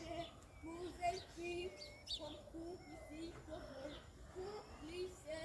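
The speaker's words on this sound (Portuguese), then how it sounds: "É pardal esses passarinhos." Small sparrows chirp in short, high, repeated notes near a bird trap, moderately close, with people talking quietly throughout.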